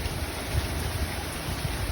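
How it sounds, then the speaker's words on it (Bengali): Heavy storm rain pours down as an even, dense hiss with low rumbling wind gusts underneath, steady and unbroken, with no voices. "অনেক ঝড় বৃষ্টি হচ্ছে"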